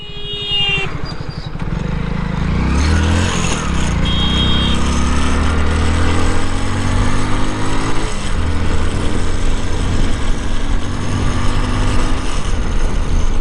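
A Hero Splendor motorcycle engine revs and accelerates steadily, its note climbing across gears over about thirteen seconds, loud and close with a constant buzzing drone and no talk.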